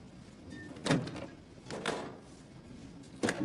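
Two small doors on a wall-mounted box are pulled open, giving three quiet, separate clunks and rattles spaced about a second apart against a hushed room.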